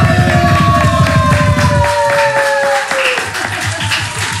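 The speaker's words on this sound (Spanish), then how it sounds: "¡Un fuerte aplauso!" A studio audience applauds and cheers for the pop duo Andy & Lucas on a Peruvian radio show, a loud burst of clapping with bright whistle-like tones that fades over a few seconds.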